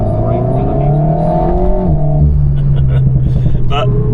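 An Alpine A110S sports car engine revving on a mountain road, heard as a loud, close, sustained harmonic drone that climbs and falls with the throttle, ending with a sharp blip near the end.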